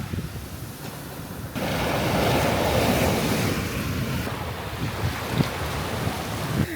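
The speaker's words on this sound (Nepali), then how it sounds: "छालले मेरो चाकसम्मै हान्दियो यार, अलिअलि सिस्सै बनायो" Ocean waves wash onto a beach in Singapore, a loud steady surf roar that swells midway, with wind buffeting the microphone and no talking.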